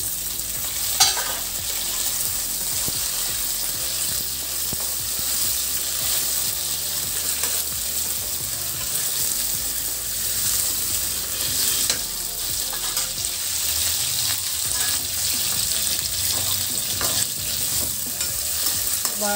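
Capsicum pieces frying with onions in a pan give a dense, steady sizzle with occasional stirring scrapes, continuous and close, with no talk.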